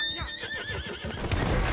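A horse in the video game Red Dead Redemption 2 gives a loud, close whinny with a shaky falling pitch, followed by heavy hoof and impact thuds, with no talking.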